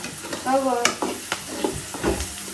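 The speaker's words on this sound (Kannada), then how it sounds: "ಒಗ್ಗರಣೆ ಹೊಡಿತೀನಿ ತಡಿ" Tempering spices sizzling and frying in hot oil in a home kitchen, a close crackling sizzle with stirring scrapes, while people talk over it.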